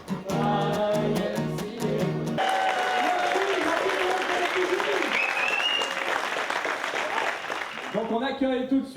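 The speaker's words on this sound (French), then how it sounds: "Applaudissements." Audience applause at a radio station's 25th anniversary celebration, a steady dense wash of clapping that rises in over music and holds loud for several seconds before a tune returns.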